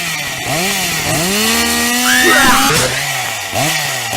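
A chainsaw revs loudly and repeatedly, its motor whining up and down in pitch in close, aggressive bursts.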